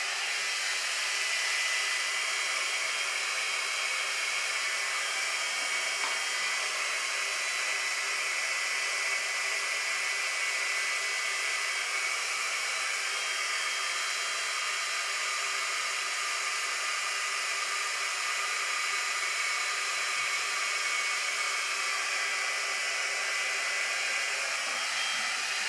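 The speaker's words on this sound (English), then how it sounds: "this dryer is on regardless of whether you're clamping or not" A GHD Duet Style hair dryer styler blows continuously on thick curly hair, producing a steady, loud, breathy airflow hiss that holds unchanged throughout with no voices.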